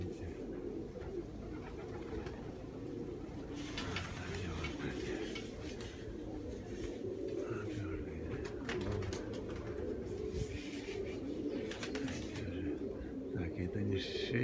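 Domestic pigeons kept by a fancier coo repeatedly in a soft, throaty rhythm, close by and layered over a steady background hum, with faint voices and occasional clatter nearby.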